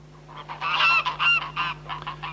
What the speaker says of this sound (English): Fine flocks of geese and a pet of a gander feeding out of a pot